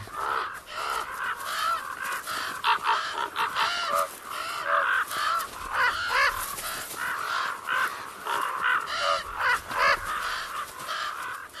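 A flock of crows cawing repeatedly and overlapping, harsh calls coming thick and fast with no pauses, moderately loud and close.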